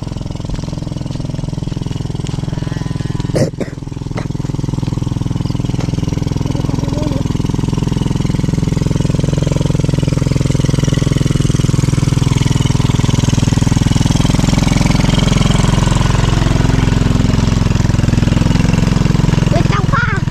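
A motorcycle engine idles steadily and loudly, with a brief sharp clatter early on and a continuous low rumble afterward.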